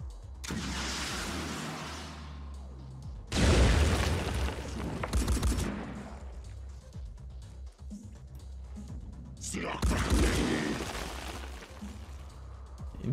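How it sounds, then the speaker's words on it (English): Heavy rocket blasts in the video game Phoenix Point, three loud booming explosions with rumbling tails separated by quieter stretches, no voices heard. "Seeing as there is a nice cluster, let's use a rocket."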